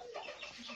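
Roosters and chickens kept for breeding give a brief, faint burst of clucking, a quick distant squawk lasting under a second.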